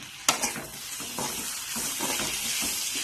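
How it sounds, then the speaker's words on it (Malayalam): Onion, curry leaves and tomato sautéing in a pan for a Kerala koorka masala curry: a steady close sizzle and hiss, with scraping stirs and a sharp utensil knock near the start. "അതിലേക്ക് നമുക്ക് കുറച്ച് കറിവേപ്പിൻ്റെ അരി തക്കാളി കൂടി ചേർത്ത് കൊടുക്കാം ഇത് നന്നായിട്ട് വഴറ്റിയെടുക്കാം"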